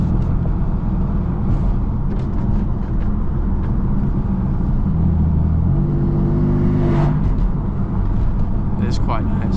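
A BMW F80 M3 tuned past 600 hp drives with its exhaust valves opened, a low steady rumble and brief revving swell under ongoing talk inside the cabin.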